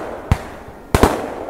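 Blank gunfire at a reenactment of the storming of Insterburg: one sharp report, then a double bang about half a second later, fairly near, over a low outdoor murmur.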